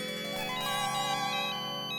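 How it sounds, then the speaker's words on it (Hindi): A phone ringtone plays, a bright electronic melody of layered tones, continuous and fairly close, with no talking over it. "अरे लेकिन वाकई में किसी का फोन बज रहा है।"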